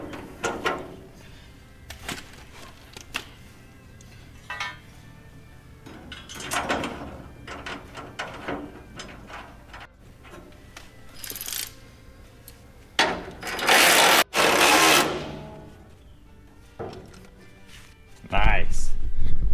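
Hand tool installing a riv nut on a car shelf frame, producing scattered mechanical clicks, ratcheting and squeezing noises, with louder harsh bursts near the end, against a quiet workshop background.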